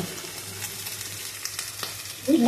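Eggplant and potato fry in oil with black cumin, a steady soft sizzle close by with a few light clicks and a brief stir near the end.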